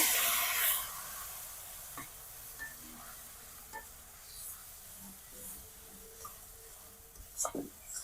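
A paste of cumin, coriander and chili powder goes into a hot pan for a chicken kosha, giving a low sizzle with occasional stirring scrapes and soft clinks, close and fairly quiet.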